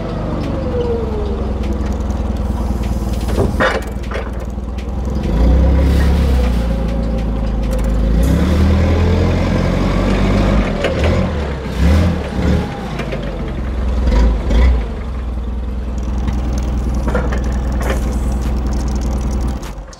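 Propane-powered forklift engine idling close by, a steady low rumble that swells a few times as if briefly revved, with clanks and handling noises over it.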